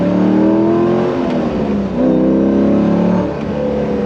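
A Chevrolet Corvette C5 Z06 V8 engine pulls hard under acceleration, loud and close, with rising harmonic tones that shift through two steady climbs with a brief dip between them; no talking.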